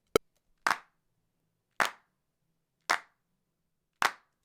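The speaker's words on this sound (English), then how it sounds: "So now take a listen to all these claps together." Several recorded hand claps layered and played back together, landing as four sharp, evenly spaced claps about a second apart after a tiny click, close and dry with silence between.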